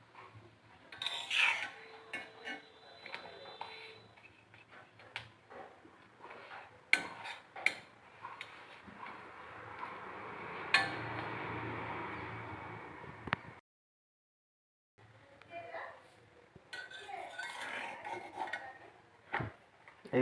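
Roti frying in a pan, heard as repeated metal clinks and scrapes of utensils against cookware, with a steady soft hiss building in the middle before a brief silence and more clattering.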